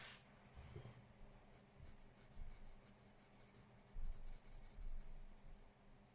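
Karisma coloured pencil shading on paper, darkening under windowsills and a roof: a faint, close scratchy rubbing with soft repeated strokes, no one talking.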